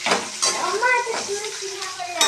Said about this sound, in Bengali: একটা শুকনো লঙ্কা আর একটু গোটা গরম মশলা আর একটু গোটা জিরে দিয়ে নিয়েছি।